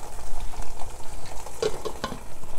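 Spaghetti bolognese sauce with beef mince cooks in a pan, giving a steady close sizzle and frying crackle with a couple of brief stirring scrapes, no voices.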